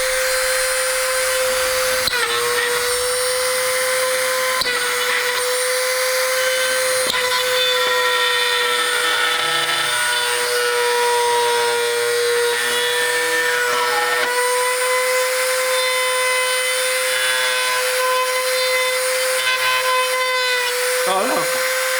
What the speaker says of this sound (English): I have like a standard Craftsman Dremel.